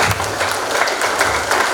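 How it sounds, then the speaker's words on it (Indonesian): An audience at a sales basic-training seminar applauds briefly but loudly, with dense, close clapping and a murmur of voices underneath. "Tepuk tangan dulu untuk Ibu Lina."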